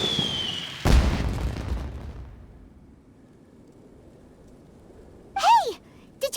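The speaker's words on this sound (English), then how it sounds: "Did you hear that explosion?" Single deep explosion in a fireworks-themed video game, a sudden loud boom with a rumbling tail lasting a couple of seconds, then near quiet before a brief voice exclaims.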